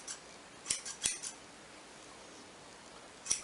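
Metal scissors snipping hair, four crisp sharp snips close by in quick succession, then a pause and one more snip, with a quiet background and no talking.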